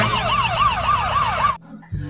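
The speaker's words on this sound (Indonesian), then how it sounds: "di sini ada mobil ambulans" Toy ambulance siren wailing in a steady, loud repeating rise-and-fall pattern for about one and a half seconds, then cutting off abruptly, followed by faint handling noise.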